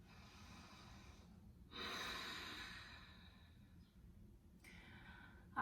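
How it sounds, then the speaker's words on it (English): Slow, deep breaths in and out during a yoga session, a long audible exhale-like rush followed by quieter breathing over steady room noise, close and alone without speech. "Breathe here, 2 more deep breaths in and out."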